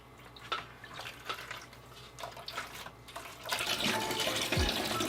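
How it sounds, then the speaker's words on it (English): Water rushes and gurgles steadily as an aquarium tank is drained by an automatic water-change machine, growing louder and fuller partway through, with a few faint drips and clicks early on. "Water's draining."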